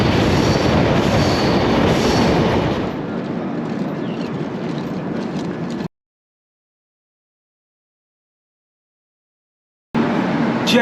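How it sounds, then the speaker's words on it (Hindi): Two Avadh Assam Express trains, up and down, pass each other on an Indian railway, a loud continuous rumble and wheel clatter that eases off partway, then cuts to silence before resuming briefly. "Awadh Assam express up and down का मिलन होते हुए"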